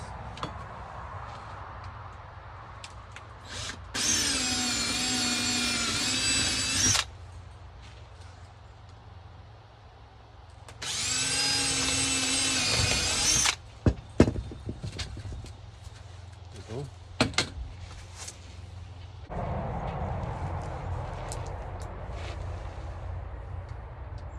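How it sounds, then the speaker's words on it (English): Two sustained bursts of a power drill whirring, each a few seconds long, pre-drilling holes for solar panel installation on a roof, separated by quieter handling noises and knocks nearby. "we're going to pre-drill these holes."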